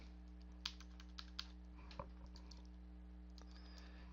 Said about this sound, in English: when you click on it, you're going to be able to start typing